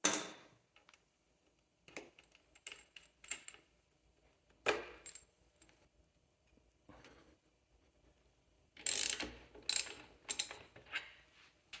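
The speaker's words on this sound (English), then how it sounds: "loosening both 19 millimeter bolts on the axle" Ratchet clicks loosening 19 mm axle bolts on a Freesky Swift Horse e-bike: short bursts of sharp metallic ratcheting, close and fairly quiet, separated by pauses, with a denser cluster of clicks near the end and no talking.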